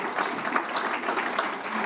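Applause from an audience at a fundraiser for Italian heritage held at an Irish cultural center in Canton, steady dense clapping filling the whole moment at moderate level with no talk over it.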